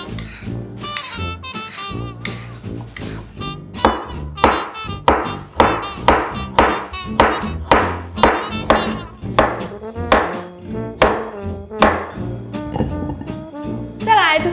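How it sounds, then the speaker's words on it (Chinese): A knife slices peeled carrots on a cutting board in a brisk, regular run of close, sharp chops, about two strokes a second, with background music playing underneath. "然后就将红萝卜去皮切片"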